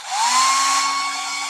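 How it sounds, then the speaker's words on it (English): A hair dryer runs on AC power drawn from a large portable battery station, starting up with a rising whine and settling into a loud, steady, close blowing roar with a constant high motor tone. "Watch this hairdryer here."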